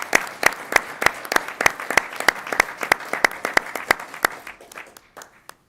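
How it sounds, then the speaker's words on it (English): Applause for the university faculty at a University of Michigan Regents meeting: a small group clapping in a room, with a brisk, steady run of claps that thins out and fades after about five seconds. "I'd like to give a round of applause, not just for the ones that were highlighted here, who are truly outstanding, but for our entire faculty"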